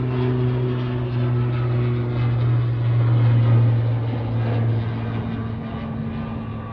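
A Loganair ATR 42-500 turboprop takes off at Manchester Airport, its propeller engines giving a loud, steady droning hum with a strong low tone that swells in the middle and eases slightly toward the end.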